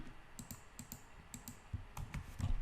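Computer keyboard keys pressed for a Control E shortcut in Excel, a quick run of soft close clicks and taps, faint and alone.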